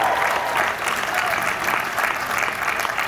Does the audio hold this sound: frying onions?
no